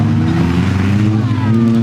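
An SA5 race car drives on a racetrack, its loud, steady engine drone holding a sustained roar with a faint rising whine near the end, close and continuous, with no one talking.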